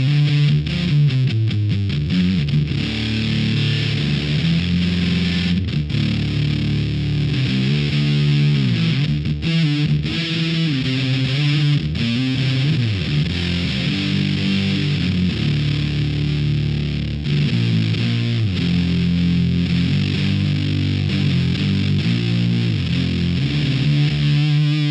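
Electric guitar through a Stone Deaf Fig Fumb fuzz pedal with its EQ set heavily, a thick, distorted, saturated tone playing continuous riffs and chords, loud and dense throughout with no talking.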